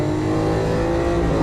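A Lamborghini Aventador LP700-4 accelerates on a Las Vegas racetrack, its engine pulling in a steady, loud, harmonic drone heard from inside the car with no pause.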